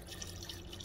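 Tap water runs steadily into an ultrasonic cleaner tank holding a little clearance-shelf degreaser, a continuous close splashing pour that lasts under a second with no talking.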